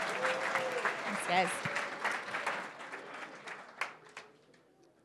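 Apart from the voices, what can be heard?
audience applause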